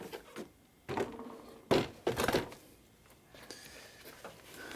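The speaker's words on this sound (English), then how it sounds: "So here comes the door panel." Plastic driver door panel coming off a Mercedes/Dodge Sprinter van, with several short rustling clunks and scrapes close by, separated by brief quiet gaps.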